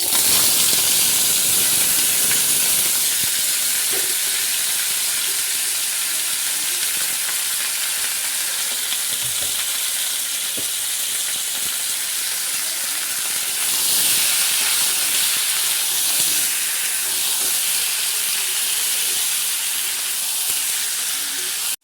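Chicken pieces frying in hot oil with slit green chillies, sugar and cardamom, a loud, continuous close sizzle and steamy hiss with occasional stirring knocks, and no speech.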